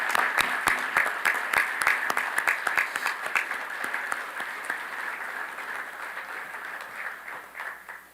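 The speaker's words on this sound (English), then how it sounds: "Please join me in a round of applause for the loved ones of these American patriots" A large outdoor audience at a Veterans Day ceremony at Bay Pines applauds steadily, dense clapping with a few sharp individual claps, sustained and gradually fading toward the end.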